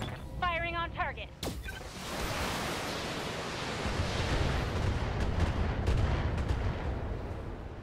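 Mech weapons firing on a target in the BattleTech game: a sharp crack leads into a long, loud, rumbling barrage of blasts and booms rolling on steadily. A brief synthetic chirping tone sounds just before the first crack.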